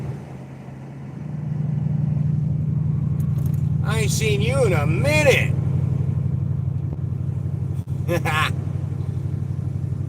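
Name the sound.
truck engine rumbling while driving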